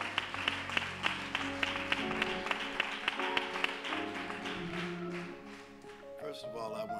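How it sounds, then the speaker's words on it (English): Church congregation clapping for the pastor, regular rhythmic claps in time over music and voices, fading out near the end as speech takes over. "Can we clap it up for our pastor, y'all?"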